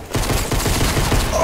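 Rapid gunfire in the video game Fortnite, a dense, continuous burst of shots at steady loudness with no gaps, filling the whole moment.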